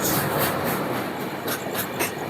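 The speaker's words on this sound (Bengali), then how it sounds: "এখন আমাদের ট্রেন সবে সাঁতরাগাছি স্টেশন থেকে ছেড়েছে, এর পরের স্টেশন রয়েছে খড়গপুর।" A passenger train running at night just after leaving Santragachi station gives a constant loud rumble and roar from on board, with faint rhythmic wheel clatter beneath it.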